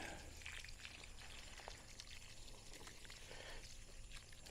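Water is poured over newly planted corn in a bucket, a steady close splashing trickle that runs the whole time with no voices over it.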